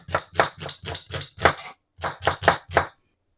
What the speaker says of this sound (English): We're just going to slice these 2 onions just like that.